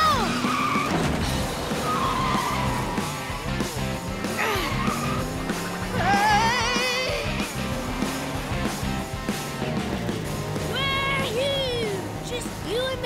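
Cartoon toy trucks racing, with engines revving and tires squealing in sharp skids that rise and fall throughout, mixed with lively background music and occasional character voices.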